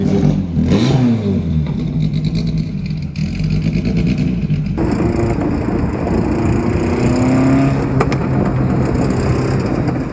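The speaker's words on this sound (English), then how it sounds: "it's probably the loudest car we have in the collection" A BMW M8 GTLM race car with a black and orange paint job, first chassis from its 2009 ALMS seasons, runs loudly and steadily nearby, its engine note rising and falling through revs with no talking over it.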